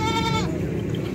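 At a goat market in Faisalabad, a goat gives one loud, close, wavering bleat that tails off after half a second into low market background noise.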